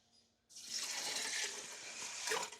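Homemade turkey broth pours steadily into an Instant Pot, a continuous liquid gush that starts abruptly and runs loud and close without pause until the end.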